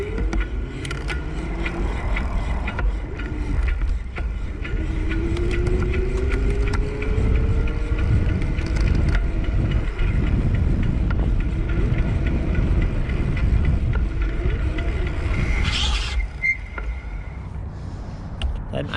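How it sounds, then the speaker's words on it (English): An Aventon Pace 350 Class 2 electric bike motor runs at its highest pedal-assist level in top gear, a steady whirring drone under continuous road and wind rumble, with faint tire hiss. "in the highest level of assist just so that the motor noise is the most pronounced that you would have"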